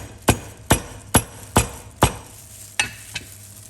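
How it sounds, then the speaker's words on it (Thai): A cleaver chopping through a crispy fried pork cutlet (tonkatsu) on a board, about seven sharp, evenly spaced knocks, close and distinct, the last two lighter. "นั้นสับหมูเลยค่ะ"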